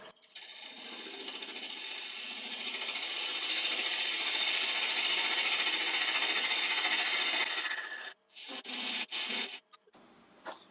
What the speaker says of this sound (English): I grab my parting tool.